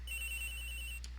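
A cell phone ringtone in the Ace Attorney Investigations video game plays as a steady, thin electronic tone for about a second and then cuts off, heard alone over a low background hum.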